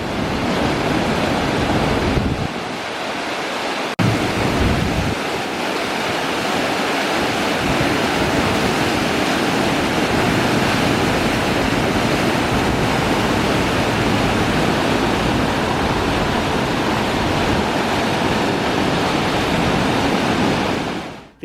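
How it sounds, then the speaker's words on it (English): The River Medlock in flood rushes through a diversion tunnel in a loud, unbroken roar. The low rumble dips briefly near the start, then the dense, steady torrent carries on alone. "let me show you this in flood"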